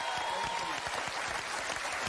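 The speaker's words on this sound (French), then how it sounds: "c'est vos applaudissements" Studio audience applause on a French game show, a faint, steady wash of many clapping hands with voices murmuring underneath.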